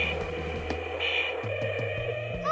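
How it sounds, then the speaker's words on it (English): Toy Fireman Sam Jupiter fire engine making an electronic swerving sound effect, a short run of descending stepped tones over a background jingle, heard alone at close range. "Oh wow, it stops Jupiter and makes a swerving sound."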